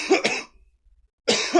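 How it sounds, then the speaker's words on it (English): A man gives two sharp coughs close to the microphone, goes silent for a moment, then coughs again. "after I cough."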